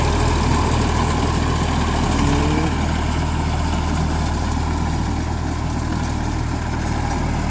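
An Eicher tractor engine runs steadily on sandy soil, a loud continuous low diesel drone with an even throb and no pauses, close and alone.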